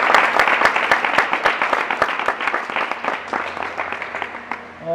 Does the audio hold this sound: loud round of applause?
yes